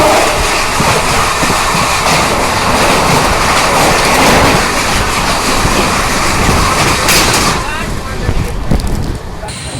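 An Amrit Bharat Express, a non-AC train departing Gaya, runs along the rails with a loud, steady rumble and clatter that fills the whole stretch, easing slightly toward the end, with faint voices in the background.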